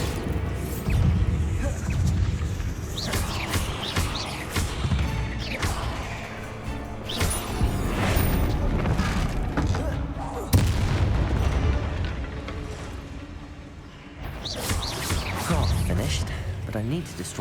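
Bombarda blasting spell explosions in the video game Hogwarts Legacy, repeated booming blasts and crashing impacts spread over a dense, busy game soundscape, with a voice speaking over them.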